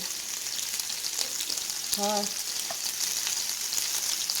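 Meat frying in a pan for quick red beans and rice gives a loud, continuous sizzle and crackle close by, with a brief squeak partway through and no talking.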